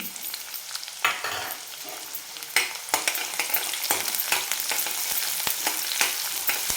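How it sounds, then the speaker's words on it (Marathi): Finely chopped onion and two dried red chillies frying in a pan for a fenugreek leaf dish, a close steady sizzle punctuated by sharp stirring scrapes and clatters, no talk. "कांदा एक दोन मिनिट आपण परतून घ्यायचा आहे"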